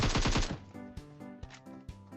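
Rapid bursts of gunfire in the mobile battle royale game PUBG Mobile, a quick loud volley of shots followed by several sharper single impacts spaced apart over game ambience.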